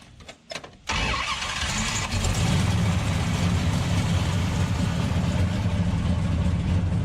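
A 1968 Dodge Charger with a carbureted Hemi engine cranks briefly, then fires and settles into a loud, rumbling, steady idle close by.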